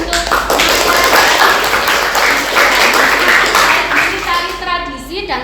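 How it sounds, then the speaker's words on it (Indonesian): Applause in a classroom during an arts and culture lesson, a loud burst of many hands clapping with children's voices and chatter mixed in, tapering off toward the end. "beri tepuk tangan untuk"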